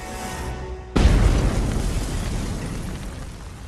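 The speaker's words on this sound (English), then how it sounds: "Goering's country residence, Karenhall, had been rigged with 20 tons of explosives" A massive demolition blast of 20 tons of explosives destroys Goering's Karinhall country estate, a sudden deep boom that rolls into a long, fading rumble after a quieter lead-in.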